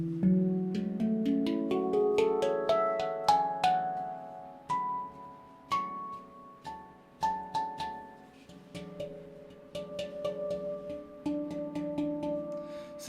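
A Meridian F Low Pygmy handpan played note by note through its full scale: clear, ringing metallic tones with long overlapping sustains, struck one after another at a steady, unhurried pace, close and alone with no voices.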